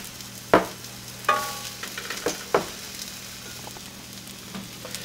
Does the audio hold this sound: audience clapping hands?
no